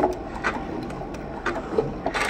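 A sewing machine sews quilt binding at slow speed, making soft, irregular mechanical clicks and whirs in short bursts, close by.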